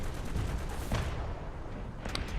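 Tank cannon and gunfire in War Thunder, a T-34 1942 duel with an M4 Sherman: a dense, rumbling burst of battle noise with a sharp report near the middle and a couple of crisp cracks toward the end.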